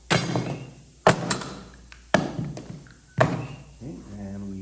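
Pins being tapped into a guitar neck fretboard during a build, four sharp, evenly spaced knocks, close and distinct, with a voice briefly at the end.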